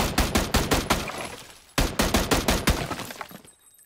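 Two rapid bursts of automatic gunfire from PUBG in first-person mode, loud and close, each a string of sharp cracks about ten per burst, with a brief gap between them and a quick fade at the end.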